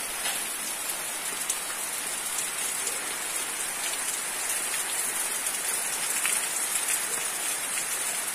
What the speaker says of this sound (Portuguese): Tá aí a chuva, o toró caindo, ó.